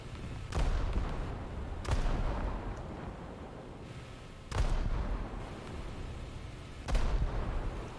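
Heavy naval guns of the Japanese battleship Kongo fire in War Thunder: four deep, booming salvos spaced a couple of seconds apart, each followed by a rumbling tail over steady background noise.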